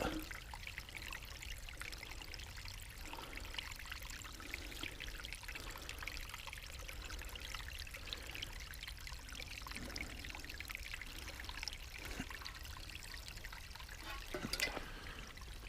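Stream water trickling and pouring into a container held in a deep spot of a creek, a faint, continuous gurgling flow with no talk over it.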